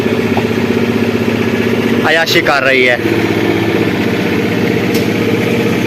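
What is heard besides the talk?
generator running in a market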